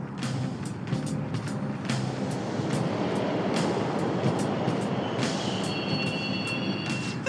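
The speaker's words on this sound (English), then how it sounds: "The trains are totally running!" Subway trains rumbling through a station in Persona 5 Royal, a steady loud roar of rail traffic with clattering wheels and a faint high squeal toward the end.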